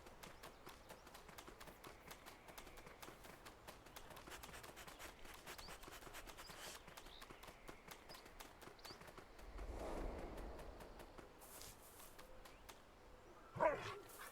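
Dogs bark in the video game My Little Puppy, over a dense, rapid patter of steps that runs throughout, with a swell around the middle and one sharp louder burst near the end.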